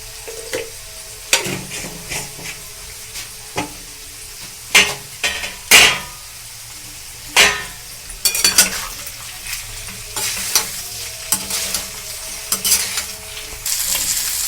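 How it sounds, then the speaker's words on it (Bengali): Potatoes with turmeric stir-fried in a pan, a soft sizzle under repeated scraping and clinking strokes of a spatula, irregular and close by, with no voices. "আলুটা হলুদ দিয়ে আমার কিন্তু কষা হয়ে গেছে।"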